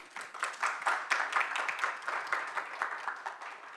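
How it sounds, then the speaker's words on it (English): Audience at a conference clapping to welcome a speaker, a moderate round of applause with distinct, fairly close claps that swell and then taper off. "Big round of applause for Cindy"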